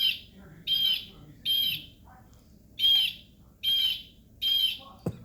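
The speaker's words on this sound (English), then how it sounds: "This is a blue jay." A pet blue jay calls in a series of six loud, close harsh bursts spaced about evenly, each roughly half a second long, with quiet room tone between them and a brief low thump at the end.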